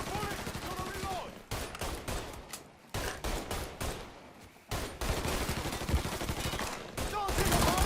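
Gunfire in Mafia 3 comes in rapid bursts and fusillades, sharp repeated shots clustered with short gaps between volleys, fairly close and dense throughout.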